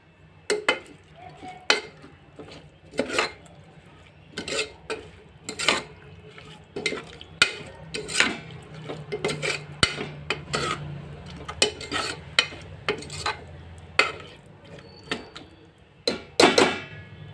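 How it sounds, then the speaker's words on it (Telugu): A spoon scrapes and stirs pappu pulusu, an Andhra lentil and tamarind stew, in a cooking pot, with repeated sharp scraping strokes in an uneven rhythm, close and fairly loud. "ఒకసారి కలుపుకుందాం"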